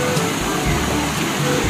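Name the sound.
rushing river water in a Kalimantan forest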